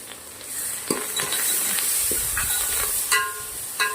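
Soft sizzling of a tempering of green chillies, curry leaves, ginger and crushed garlic frying in hot oil, with occasional stirring clinks against the pan; no talking.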